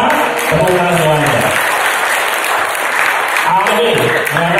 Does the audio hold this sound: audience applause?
yes